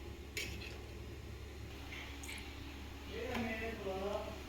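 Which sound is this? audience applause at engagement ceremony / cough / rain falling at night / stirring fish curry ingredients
stirring fish curry ingredients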